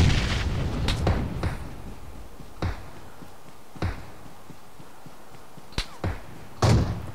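Sniper rifle shots in PUBG Mobile gameplay: a handful of single booming cracks spaced irregularly over several seconds, each sharp and short against a low background rumble.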